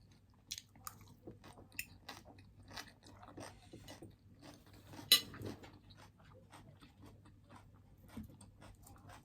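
Fried colossal shrimp eaten close to the mic: a steady string of crisp bites and wet chewing clicks, with one sharp crunch midway and faint clinks of cutlery over a low background hum.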